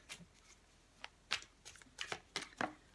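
Tarot cards shuffled by hand in a series of crisp riffling bursts and soft slaps, several quick flurries spaced irregularly, close and fairly quiet with no talking.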